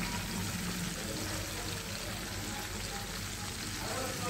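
Fish frying in a pan with oil, a steady, faint hiss and crackle of sizzling that runs unbroken throughout with no clear pauses.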